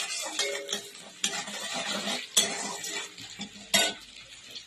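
Onions fry in hot oil in a kadai while a utensil stirs and scrapes the pan, with soft sizzling under sharper metallic clinks and scrapes in irregular bursts, fairly quiet and close, with no voices.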